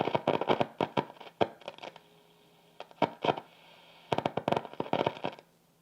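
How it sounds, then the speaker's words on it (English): Irregular bursts of crackling, popping static from an old radio tuned to AM, coming in clustered pops with brief quieter gaps, fairly close and clear. "that popping goes away when you're back in FM"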